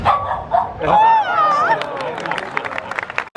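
A trained dog at an animal show at Universal Studios barks on the 'speak' command, giving a few loud close yips and barks over crowd noise and a handler's voice.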